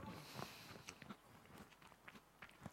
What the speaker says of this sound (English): Sorry, I'm still chewing.